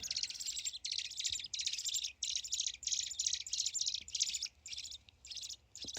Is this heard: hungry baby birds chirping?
yes